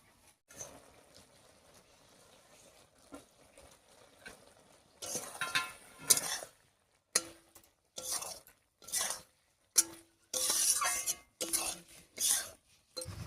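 A spoon scrapes and clinks in a pan while egg pakora curry with spring onion leaves is stirred, a series of sharp metallic knocks and scrapes in bursts, with quiet talk near the start.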